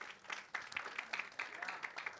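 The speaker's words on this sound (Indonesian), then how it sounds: "kasih tepuk tangan dulu buat Tuhan Yesus" A church congregation applauds during a sermon, a faint, distant patter of clapping hands with quick uneven bursts lasting about two seconds.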